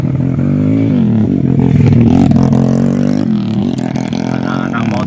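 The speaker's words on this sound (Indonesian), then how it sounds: "Anak-anak motor menikmati nuansa motornya, menikmati geber-geber motornya." Motorcycles revving their engines along a smooth rural road past rice fields, a steady loud engine drone that swells and dips with throttle blips throughout.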